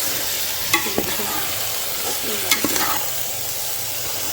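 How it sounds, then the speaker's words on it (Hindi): Potatoes and fenugreek leaves for aloo methi are stir-fried. A steady close sizzle runs under a few utensil scrapes and taps against the pan. "2 से 3 मिनट तक इसको अच्छे से मिक्स करेंगे और भूनते जाएंगे साथ।"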